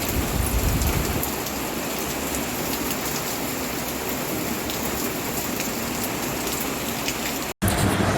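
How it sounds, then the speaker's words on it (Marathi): Steady evening rain pouring without a break, a dense even hiss heard close and fairly loud, slightly heavier for the first second, with a brief dropout near the end. "असा पाऊस चालूच आहे नॉनस्टॉप."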